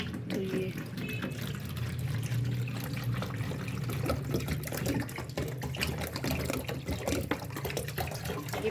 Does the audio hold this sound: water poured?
yes